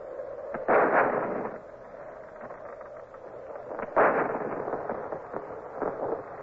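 Cannon salute guns fire from the port of Cadiz, two distant, muffled booms about three seconds apart, each rolling away into a low rumble over wind noise.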